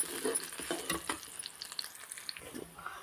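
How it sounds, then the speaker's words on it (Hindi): Onions browning in sweet oil in an iron kadhai, a faint, even sizzle broken by irregular scraping and stirring knocks. "प्याज हमारे भून के ब्राउन हो गए"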